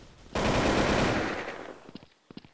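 Sustained machine gun fire in the online shooter Blood Strike, one loud continuous burst that fades out, followed by a few sharp, separate single shots.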